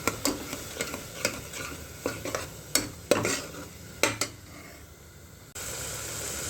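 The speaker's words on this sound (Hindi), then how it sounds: "तो अब हम इसके अंदर डाल देंगे ये जो हमने मसाले का पेस्ट बना के रखा था वो, इसको हल्का सा पकने देंगे" Spice paste cooking in a pan, soft sizzling beneath a series of sharp, regular spoon taps and scrapes roughly every half second, then a steadier, louder sizzle toward the end; close and without talk.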